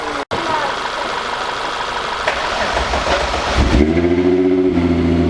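After a stretch of rushing noise, a VR6 car engine cranks and catches, then settles into a steady, throbbing idle close by.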